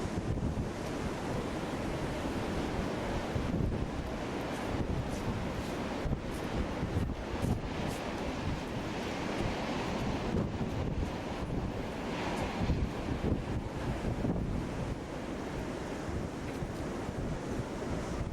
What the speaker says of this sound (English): Really windy standing here